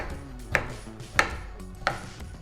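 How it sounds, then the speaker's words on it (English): Three sharp knife chops through a stack of Reese's peanut butter cups on a board, evenly spaced about two-thirds of a second apart, close and clear over quiet background music. "Gonna stack these up and chop them."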